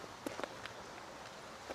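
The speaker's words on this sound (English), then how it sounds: "strange walking sounds start nearby. Footsteps that don't belong to them." Faint footsteps in woodland, a handful of soft, scattered crunches and thuds against a steady background hiss.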